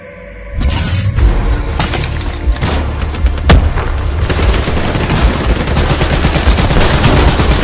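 Fiery immolation cyber ability from Call of Duty: Black Ops III engulfing enemies, a loud, dense roaring burst with crackling and sharp impacts that sets in abruptly and rages on continuously.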